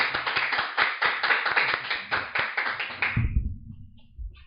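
A small audience claps after a lecture, giving a steady patter of many hands for about three seconds. The clapping then stops abruptly and only faint room noise remains.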